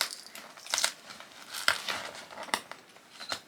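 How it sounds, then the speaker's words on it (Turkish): Paper tape ripping and cardboard crinkling in short, irregular tearing bursts, close up and fairly quiet, with no talking. "Kağıt bant ve zor açılıyor kutuyu yırttım ya."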